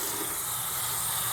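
Water runs from a sink tap during handwashing, a steady, close, broadband hiss that holds unchanged throughout.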